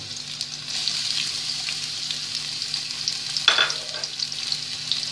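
Peppers sizzle in hot oil in a frying pan, a steady close hiss running throughout with a brief louder burst of spatter or stirring midway.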